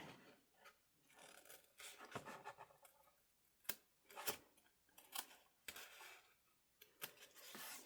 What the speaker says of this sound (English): I think I am going to use my scissors because I can't see it very well.